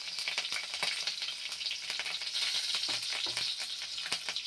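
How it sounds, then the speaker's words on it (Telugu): Curry leaves and green chillies fry in hot oil, a dense, crackling sizzle with rapid pops and spits throughout, no voices. "ఈ కరివేపాకు వేసేసి కొద్దిగా ఫ్రై అయ్యాక"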